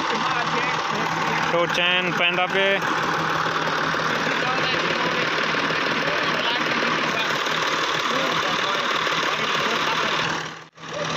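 Tractor engine running steadily nearby, a loud continuous chugging drone with a brief mechanical rattle early on, cutting out near the end; someone speaks over it.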